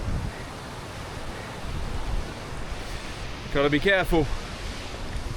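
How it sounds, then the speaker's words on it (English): Wind rushes over a rugged Lake District hiking trail on a cold day, a steady broadband roar buffeting the microphone with stronger gusts, while a hiker speaks briefly over it. "The wind's picking up and the terrain's getting more sketchy"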